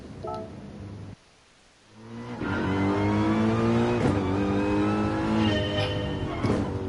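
Mercedes GT3 race car engine in a racing video game, revving up after a brief drop, then holding a loud, steady, rising engine note close by with harmonic whine, no talk.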